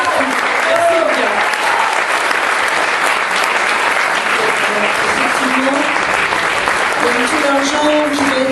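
An audience applauds loudly and continuously at a charity event, with the dense clapping mixed with background music and some voices that sit under it throughout.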